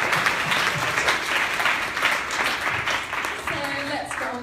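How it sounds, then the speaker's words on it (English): Audience applause at an alternative careers and wellbeing event, steady loud clapping throughout, with a voice starting to speak over it near the end. "So big round of applause for yourselves."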